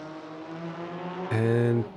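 GT3 race car engines in the RaceRoom sim at Dubai Autodrome, a steady multi-car drone that swells abruptly as a Porsche pulls alongside and overtakes, its loud harmonic engine note dominating for half a second before easing back.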